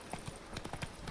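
Horse hooves clip-clop at a trot as Geralt rides in The Witcher 3: Hearts of Stone, several quick evenly spaced hoof strikes, fairly quiet and alone.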